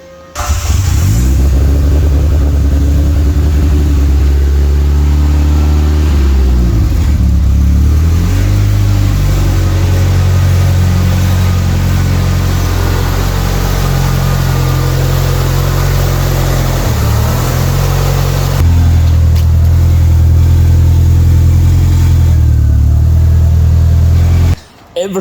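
A retired 2020 Mitsubishi Time Attack race car with fiberglass body panels fires up and revs hard, its loud engine roaring steadily for nearly the whole stretch with a few dips between revs, voices faintly under it.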